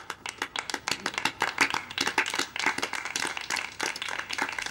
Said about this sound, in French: nous allons applaudir bien fort les Via People